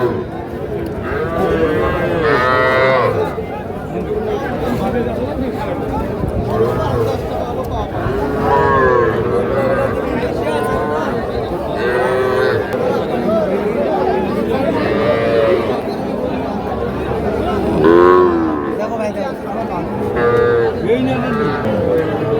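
Young bull and heifer calves at a rural cattle market bellow repeatedly, loud close moos overlapping one another above a constant background of crowd chatter.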